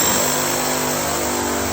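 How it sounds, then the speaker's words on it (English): A drill bores holes into a concrete floor for the base plate of a HALO HL2-10K two-post, 10,000 lb floor-plate car lift, making a loud, continuous, grinding roar close by. "While he's finishing up drilling the rest of the holes on the base plate"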